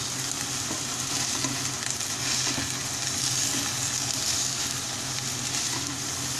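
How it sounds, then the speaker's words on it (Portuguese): Eggs for a spinach frittata cook in a covered pan, producing a continuous, even sizzle and soft crackle at close range, with no speech. "esses ovos rapidamente já estão sendo preparados, ó. Ele já tá cozinhando."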